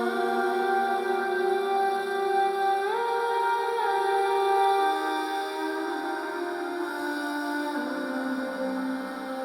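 A Soundiron Sonespheres 3 tone played through psych delay and slow stereo tremolo, a sustained, gently shifting layered drone with slowly gliding pitches and soft pulsing movement, alone and moderately quiet.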